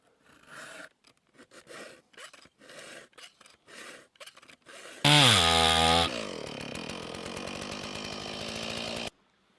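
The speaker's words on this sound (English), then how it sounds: "Got my saw stuck." A chainsaw bucking wood, first a run of sharp bursts and pauses, then a loud, close high-revving snarl settling into a steady cutting drone before stopping abruptly.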